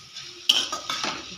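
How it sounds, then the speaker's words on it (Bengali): A spatula scrapes and stirs chopped banana flower in a pan, a few sharp metallic clinks and scraping strokes over a faint sizzle, close and brief. "মোচাটা দেখে কষিয়ে নিচ্ছি।"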